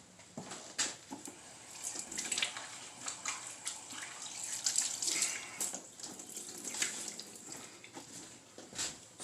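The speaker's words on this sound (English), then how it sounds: "So I'm going to wash my hands now." Hands washed under a running kitchen tap after handling raw ribeye steak, a steady close hiss of flowing water with splashes and rubbing, no talking.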